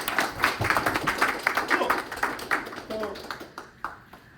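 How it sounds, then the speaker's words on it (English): An audience at a posture and lifestyle health talk gives a round of applause, a burst of clapping that thins out and fades over a few seconds, with a voice briefly heard. "Give him a big round of applause"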